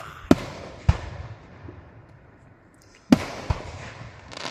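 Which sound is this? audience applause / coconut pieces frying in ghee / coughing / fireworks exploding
fireworks exploding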